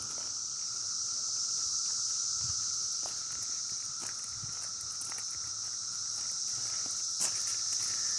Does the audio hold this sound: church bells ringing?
no